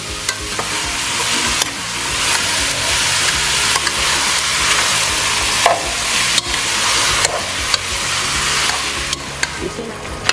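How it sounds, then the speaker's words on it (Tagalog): Ground beef sizzles loudly in a hot pan for lasagna, with steady frying hiss and repeated scraping stirs of a utensil against the pan close up, and no talk. "So, ilagay na natin ang ating ground beef. Okay. So, gusto natin na mag-caramelize yung ating ground beef."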